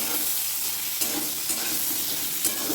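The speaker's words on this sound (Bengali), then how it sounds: "পটলটা বসিয়ে এসেছি বসিয়ে এসেছি মানে ভাজার জন্য বসিয়ে এসেছি" Pointed gourd (potol) frying in a pan gives a steady, close sizzle with soft crackles, punctuated by a few light knocks of a spatula.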